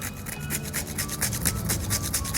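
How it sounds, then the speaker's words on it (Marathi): A nutmeg being grated over a sweet karanji filling of sugar, cardamom and salt, with rapid rhythmic rasping strokes repeating close and fairly soft, with no talk. "थोडंसं जायफळ किसून टाकू आपण"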